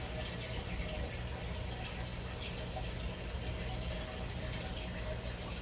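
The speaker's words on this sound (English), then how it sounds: "just gonna wait a little bit while that fills up the tank" Water running steadily into a fish tank, a constant loud gushing and bubbling fill that holds at one level from start to finish with no voices.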